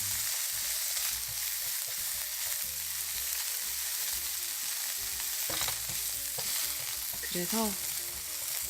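Sliced onion and bacon frying together in a pan, a continuous crackling sizzle with stirring scrapes, close and even, and a brief spoken word near the end.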